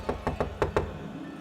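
Five firm knocks on a door, sharp and evenly spaced, the last two closer together, heard nearby in a quiet room.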